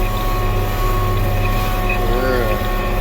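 A John Deere 8930 tractor engine drones steadily and loudly while pulling a seed drill planting Sudan grass, a constant close hum from the cab with voices speaking faintly over it.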